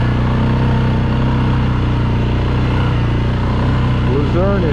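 ATV engine drones steadily while riding meadow trails at an ORV campground, a loud, constant motor hum with a voice talking over it.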